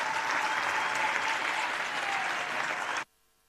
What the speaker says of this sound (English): Won't you give her a big round of applause?